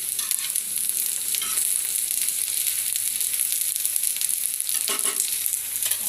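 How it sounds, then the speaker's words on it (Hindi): Okra sizzles steadily in a hot pan for Pakistani bhindi gosht, a loud, continuous crackling hiss with a few scraping stirs near the end and no voices. "ये मेरी भिंडियाँ जो हैं अच्छे से फ्राई हो गई हैं"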